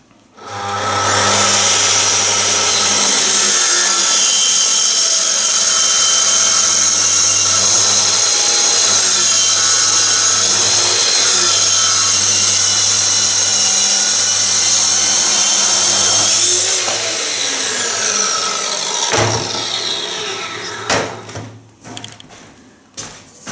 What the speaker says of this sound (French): On positionne la scie.